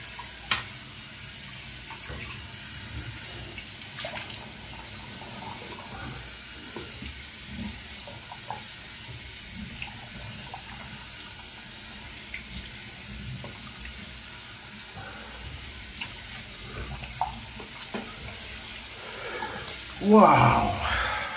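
Water runs steadily from a bathroom tap while a freshly shaved face is rinsed, a constant hiss through the whole stretch with a louder burst of splashing near the end.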